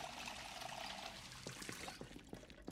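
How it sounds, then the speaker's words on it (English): In the video game Project Zomboid, a water bottle fills from a tap with a brief rushing pour that thins into a trickle, then ends with a few small drips and clicks. "Fill a water bottle."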